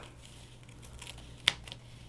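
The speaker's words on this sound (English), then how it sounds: "Then I'll take my pinking shears and come in here and cut the rest of that tape off." Pinking shears trim tape on a bag, giving one sharp snip amid faint rustling and soft handling noises in a quiet room.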